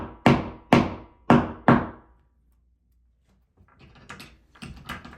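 Four sharp, evenly spaced hammer knocks drive plastic wall inserts into bathroom tile, loud and close, then a pause and softer scattered handling taps.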